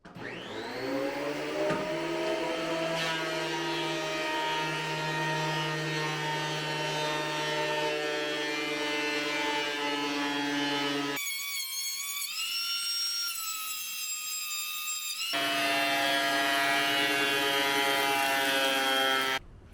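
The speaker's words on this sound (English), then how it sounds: "we're going to pull the planer out and get this board down to probably right about a 1/2" A thickness planer whines loudly and steadily as it shaves a wooden board down toward half-inch thickness, with a brief shift in pitch midway before the cut resumes at full roar.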